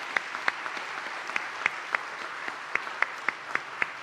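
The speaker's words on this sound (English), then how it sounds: "Give yourselves a round of applause," Applause from a graduating batch at a NUMed Malaysia congregation ceremony, a steady patter of many hands clapping in a large hall, moderately distant, with sharper individual claps standing out.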